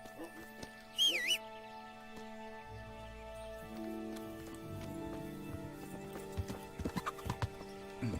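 A horse in the medieval game Kingdom Come Deliverance gives a loud neigh, followed by clip-clop hooves stepping along, with game music and a voice in the background.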